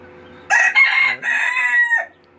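A rooster crows loudly and close by in one long, broken call lasting about a second and a half, with faint hen clucking around it and no talking.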